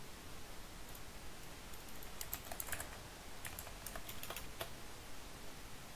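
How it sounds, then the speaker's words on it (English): Typing on a computer keyboard, a quiet run of quick key clicks in two short bursts over a steady background hiss, close but faint, with no voices. "let's type"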